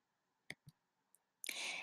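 Computer mouse clicks: two distinct clicks close together, a fainter third click a moment later, then a burst of broad noise at the end.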